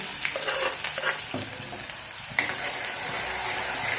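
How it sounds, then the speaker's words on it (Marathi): Finely chopped medium onion frying in oil until reddish-brown for dal batti, a dense steady sizzle close by, punctuated by stirring scrapes and a sharper clatter partway through. "तो आपल्याला तेलामध्ये छान लाल होईपर्यंत भाजून घ्यायचा आहे"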